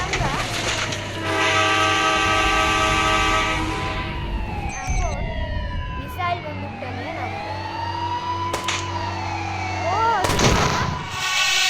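Train in the Indian Bike Driving 3D mobile game: a loud synthetic horn blares, then sirens wail and sweep in pitch over rumbling engine noise, with sharp bangs and a second horn blast near the end.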